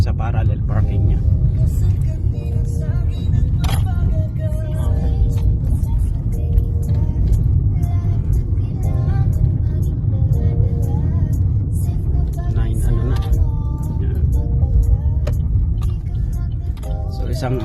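A learner's car loops around in Canada for a second parallel parking attempt, its engine rumbling steadily and tyres whirring on the road beneath ongoing conversation, with a brief jangle of keys.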